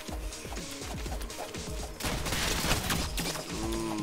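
Rapid gunfire from the ROUNDS video game, a dense, loud barrage of overlapping shots and impacts that grows fuller midway and continues to the end.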